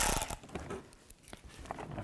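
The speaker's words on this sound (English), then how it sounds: "Use an 8mm socket." Ratchet with an 8mm socket backing out screws on a 2003-10 BMW X3 during headlight removal: a loud burst of clicking at the start, then quieter scattered ratchet clicks, close up with no talking.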